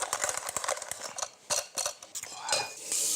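A hand-cranked food mill (moulin à purée) presses cooked potatoes into mash, with rapid metallic clicks and scraping strokes that come in close, uneven bursts with brief pauses.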